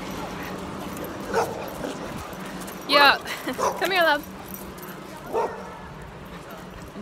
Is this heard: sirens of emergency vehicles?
no